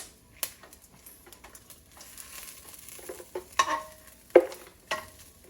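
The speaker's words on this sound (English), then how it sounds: "Just make sure you are stirring so it will not get burnt." Dried peppers for birria are stirred in a hot pan, giving a faint sizzle under scraping and stirring noises, with a few sharper clinks and scrapes toward the end, close up and with no talking.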